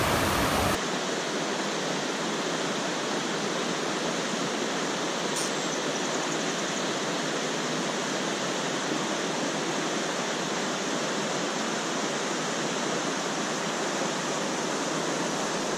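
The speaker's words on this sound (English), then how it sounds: "this is 9 Mile Creek in New York" Ninemile Creek in New York flowing over a riffle, a constant broad rushing wash of water heard up close and unbroken throughout, with no talking.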